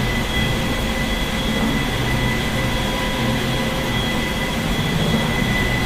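An A-4 Skyhawk jet engine roars at full power in a DCS World flight simulation, a loud unbroken whine and rumble filling the whole stretch without speech.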